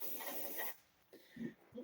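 A single hissing burst of cleaning spray is aimed at a computer keyboard for under a second, then it cuts off into near quiet broken by a few soft handling sounds.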